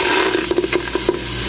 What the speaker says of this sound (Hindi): तो ये जो गोश्त है ये डालता हूँ मैं आधा किलो